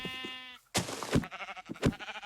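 A sheep bleats in the Minecraft video game, a short wavering call at the start followed by louder thumps and game sounds, with no talk.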